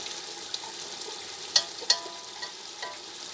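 Onions frying in masala in a pan for chicken biryani, giving a soft steady sizzle with a few sharp crackles and spatters standing out near the middle.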